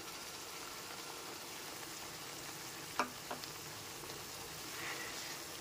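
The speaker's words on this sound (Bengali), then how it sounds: "টমেটো, আদা, রসুনের পেস্টটা দিয়ে দিলাম।" A tomato, ginger and garlic paste frying with browned onions in a pan for a spicy Bengali egg curry. The sizzle is soft and steady, with a sharp utensil tap or two partway through.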